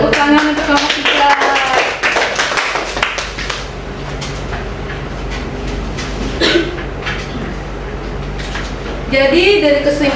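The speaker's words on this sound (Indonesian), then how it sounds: "tepuk tangan untuk kelompok 3" Group clapping rings out near the start and again at the end, with people talking and cheering over and between the applause.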